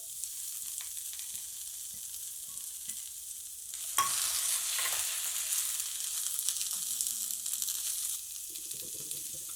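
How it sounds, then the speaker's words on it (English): Okra hits a hot pan and bursts into a loud sizzling hiss about midway, the frying then holding steady and close, with faint clinks and stirring underneath and no one speaking. "And now I will add the okra."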